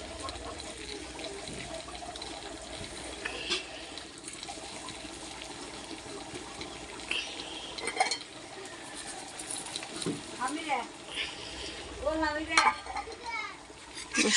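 A spoon stirs spice powder through a sweet, sour and hot jujube pickle, giving soft wet scraping and clinking sounds that grow busier toward the end, with a faint voice murmuring in the background.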